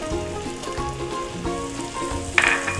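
Chicken frying in a pan with a cooked egg for street-style chicken fried rice, a steady close sizzle with faint stirring scrapes and a brief clink near the end.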